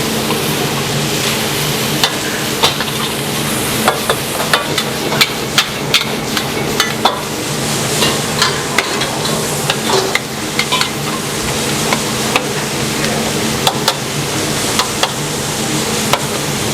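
Beef frying in a little oil, loud continuous sizzling with repeated sharp clacks of a utensil stirring and pressing the meat, no voices.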